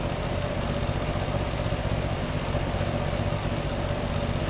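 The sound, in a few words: boat engine idling in the video game Stormworks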